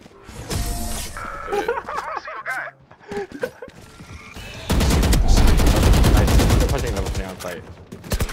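Rapid automatic gunfire bursts from the Valorant video game, loud and close, following earlier scattered shots and short bursts, with excited voices talking over parts of it.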